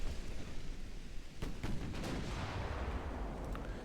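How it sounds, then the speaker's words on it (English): Battleship guns firing high-explosive shells in the naval game Ultimate Admiral Dreadnoughts, heavy rumbling booms overlapping into a continuous roar of distant fire, with a few sharper cracks standing out. "Let's just fling some high explosive at him."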